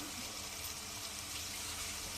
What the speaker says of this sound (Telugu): ఇప్పుడు వాటర్ అయితే వేసేసుకుందామండి